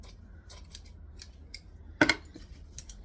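Scissors snip through excess backpack fabric in a single short, crisp cut near the mic, surrounded by faint handling taps and rustles.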